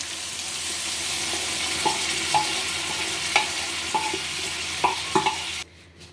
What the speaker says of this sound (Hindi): तो दाल डाल दिया है, अब इसे मिक्स कर दीजिए।